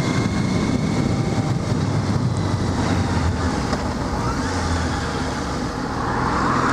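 Honda CB650F motorcycle (2014/2015 model) pulling in and slowing, a steady broadband engine and wind rumble that stays loud and close throughout with no talk.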